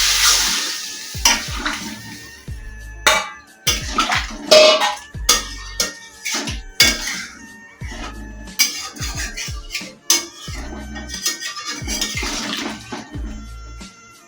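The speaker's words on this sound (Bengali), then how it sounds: "এবার আমি কড়াইয়ে পরিমাণ মতো জল দেবো" Water goes into a hot kadai of browned chicken and separated oil for chicken biryani, setting off irregular bursts of loud hissing and splashing sizzle.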